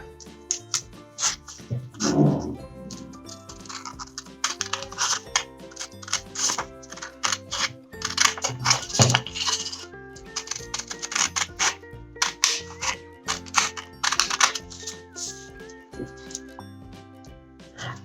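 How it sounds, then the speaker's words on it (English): Scissors cut along drawn lines on paper for straw gliders, producing repeated crisp snipping and crunching bursts in an irregular rhythm, close and fairly loud over a faint steady background. "Now I'm going to cut these 4 lines. So let's start cutting."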